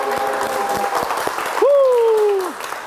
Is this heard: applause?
yes